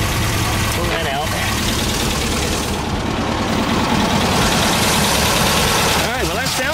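A 1971 VW Type-3 Squareback 1600 Variant engine idling just after starting, a loud, steady rumbling chug close by with a slightly rough, knocking texture and no revving.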